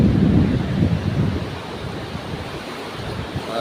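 Rain falling outdoors makes a steady, fairly loud broadband wash mixed with wind-like rushing, a bit heavier at first and then easing slightly.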